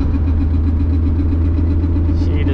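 A Mk3 Volkswagen Jetta VR6 engine runs loudly and steadily close by, a deep droning rumble with a faint rhythmic pulsing throughout.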